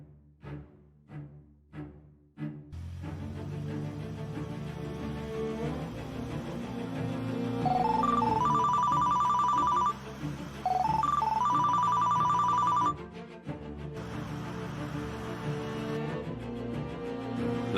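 A telephone rings with a repeated electronic melodic tone in two bursts against a steady indoor background hum, preceded by a few sharp knocks, with no speech.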